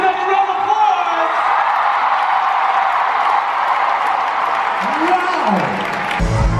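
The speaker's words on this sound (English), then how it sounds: "Give yourself a round of applause!" A large arena audience at WE Day 2017 in Toronto claps and cheers in a loud, continuous crowd roar, with shouts and whoops rising over the sustained noise.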